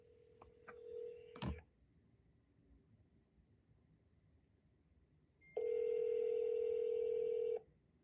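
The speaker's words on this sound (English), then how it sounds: "I don't think he's available, but it's still ringing." An outgoing call on a phone gives a short tone burst, then a pause, then one steady electronic ring lasting about two seconds, faint and with no voices.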